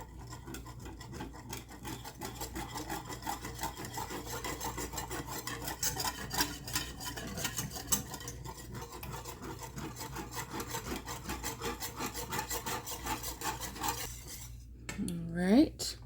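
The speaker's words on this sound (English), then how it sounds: "We'll give that a whisk." A whisk beats ingredients in a bowl while making a spinach dip chicken, giving fast rhythmic scraping and clinking strokes that carry on steadily and fairly quietly, with a brief clatter at the very end.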